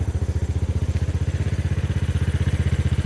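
A 250cc Hammerhead go-kart engine runs at a steady, even idle without throttle, loud and close, its rapid regular firing pulses thumping evenly throughout.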